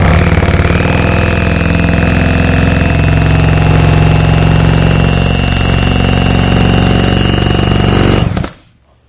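An electric saw slices through upholstery foam resting on cardboard, its motor holding a loud, steady buzzing whine for about eight seconds before cutting out abruptly.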